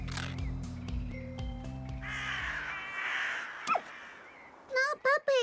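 Blackbirds caw in the video game Little Misfortune: a few loud, harsh, close calls burst out near the end, after a stretch of quiet game music and a single short rising cry.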